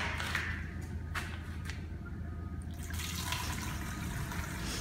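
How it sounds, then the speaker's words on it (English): Liquid colour being poured through a funnel into a sprayer during a stamped and carved concrete overlay job, a steady close-up trickle and splash of fluid that runs continuously without talk. "I'm going to add my liquid color."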